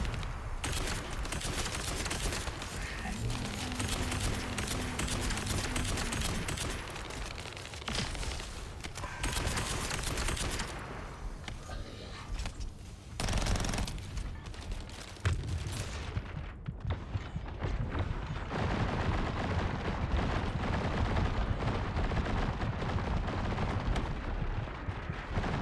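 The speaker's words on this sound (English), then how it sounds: "I'm gonna shoot him to get Massacre" Dense, rapid gunfire from shooting an enemy in The First Descendant video game, loud and continuous with heavy bursts and booming impacts throughout, no speech.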